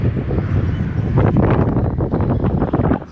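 Wind gusts roar steadily across the microphone on open water during crappie fishing from a boat, a loud, continuous buffeting with no talk.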